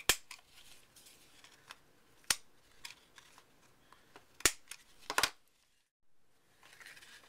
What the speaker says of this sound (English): I'm going to round the corners off